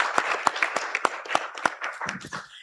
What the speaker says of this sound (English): join me in clapping and applauding them for their expertise.